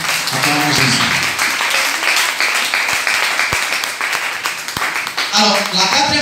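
A church congregation applauding and cheering for Jesus during a sermon, dense sustained clapping filling the room with a few sharp individual claps, while a preacher's voice speaks loudly over it.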